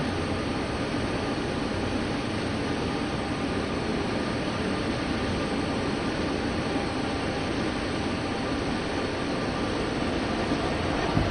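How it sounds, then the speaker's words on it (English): A passing train in the railway simulation game Train Sim World 2, on a coal route over Sherman Hill near Cheyenne yard, gives a steady, dense rumble with no breaks. "Ooh, another train."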